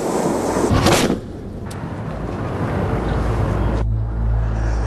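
A tree cannon fires a handmade granite cannonball: a single loud, close blast just before the one-second mark, followed by a long rumbling, roaring wash of outdoor noise.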